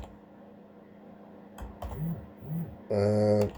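Short bursts of typing on a computer keyboard while entering a folder name, quiet clicks spread across the clip, with a louder cluster of key presses near the end.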